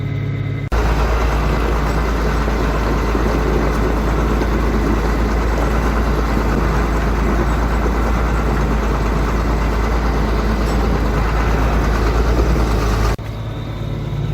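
A vehicle engine runs steadily while animals are driven home, a loud, constant low drone that holds without break before cutting off near the end.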